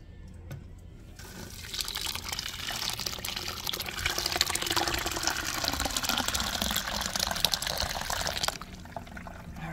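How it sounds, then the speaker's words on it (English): Cucumber and June plum juice, made Jamaican style, being strained, a steady close stream of liquid pouring and splashing through a strainer for several seconds before easing off. "I'm going to just go right ahead now and strain this off"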